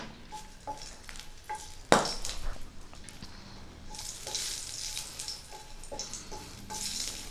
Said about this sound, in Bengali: তেল গরম হয়ে গেছে, শুকনো লঙ্কাগুলো ভেজে নিচ্ছি।